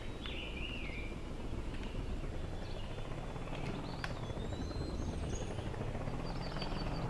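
Coaxial rotor helicopter blades in the Homebrew Vehicle Sandbox video game produce a continuous dense whirring drone, with scattered chirp-like tones over it, steady and loud throughout.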